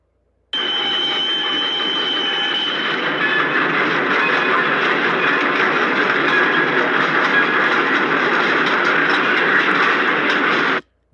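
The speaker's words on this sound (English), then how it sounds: "You hear trains coming in." A train rolling along a railroad line gives a steady, loud broadband rumble with a metallic ringing tone on top, holding level for about ten seconds with no voices over it.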